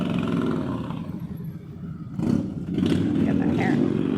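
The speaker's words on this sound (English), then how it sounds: "And motorcycles now too." Motorcycles pass along a neighborhood street with an SUV also going by, a loud engine roar that swells and rises partway through, with people talking over the traffic noise.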